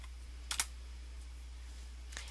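A couple of sharp keystrokes on a computer keyboard, one quick double tap near the start and a single light tap later, while entering a MATLAB command. A steady low hum runs underneath, and no one speaks.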